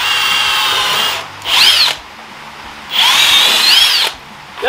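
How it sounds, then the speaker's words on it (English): Power drill boring starter holes for lag bolts into wood while building a mobile pig shelter, two loud whining bursts of roughly a second each with a pause between, no talk. "I'm gonna drill out starter holes for these lag bolts, just so that we're not fighting it all the way in"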